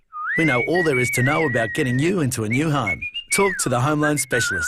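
Close, loud whistling of a cheerful melody in a radio advertisement for a home loan company, a steady whistled tune running continuously under a voiceover.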